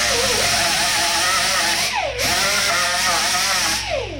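Power burr grinding away metal on an ATV trailer hitch in a shop, a loud continuous whining buzz throughout with brief pitch dips as the tool loads and eases, close and alone without talk.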